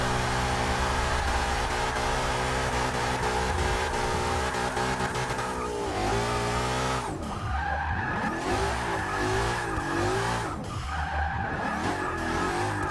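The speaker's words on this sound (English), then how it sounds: "A turbo noise, those cars sound so good." A tuned drift car in Forza Motorsport 6 holds a long slide with a loud, continuous engine and turbo whine, its tires squealing and the pitch dipping and climbing as the revs shift.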